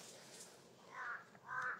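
Two harsh crow caws in quick succession, each lasting about a third of a second, heard from outdoors at moderate distance over a faint hiss, with no talking.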